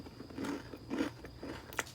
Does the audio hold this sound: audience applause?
no